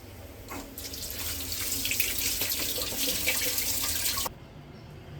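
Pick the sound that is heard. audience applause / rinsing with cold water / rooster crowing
rinsing with cold water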